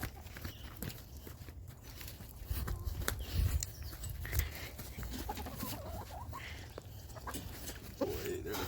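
Backyard chickens and a rooster peck at persimmon and bread treats with soft clucks, scratching and footsteps close by, over a continuous outdoor background.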